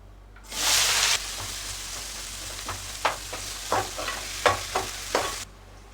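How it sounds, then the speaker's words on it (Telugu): A quarter kilo of sliced onions dropped into hot oil bursts into a loud hiss, then settles into a steady sizzle punctuated by a series of spatula scrapes and clacks, with no talking. "ఆయిల్ బాగా హీట్ ఎక్కినాక ఇందులోకి పావు కేజీ ఆనియన్ని ఈ విధంగా కోసుకున్నది వేస్తున్నాను"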